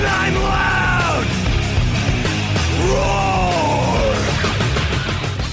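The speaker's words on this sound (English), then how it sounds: "I'm yelling and screaming, and I'm loud." Loud, continuous yelling and screaming from a man in a car insurance radio advert, with heavy metal style music pounding underneath throughout.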